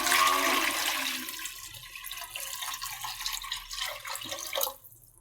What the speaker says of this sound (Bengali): দিয়ে দিলাম পানি, এখন সিদ্ধ বসে দেবো